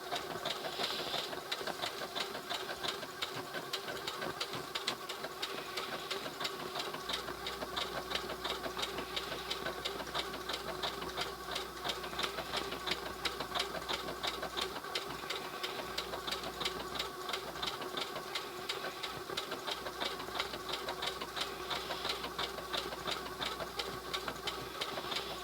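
A Singer 6800C heavy-duty sewing machine runs steadily while stitching decorative patterns, its rapid needle chatter continuous and close throughout with no one speaking.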